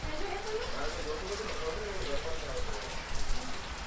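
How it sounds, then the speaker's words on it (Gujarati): Heavy monsoon rain with wind in Junagadh, a dense, steady hiss of rain on surfaces close by, with a low voice murmuring underneath. "ભાઈ વરસાદ ને પવન આવે છે"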